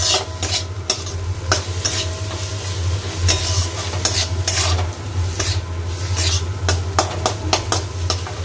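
Spices and salt being stirred in a hot pan with a spoon, loud repeated scraping and clinking strokes over a continuous frying sizzle and low hum, close up with no talk.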